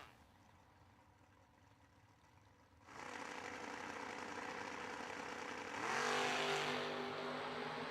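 A drag race with a Chevrolet Camaro and a Chevy Monza: after a quiet stretch, loud engines roar into life, then rev harder and climb as the cars launch, with no voices.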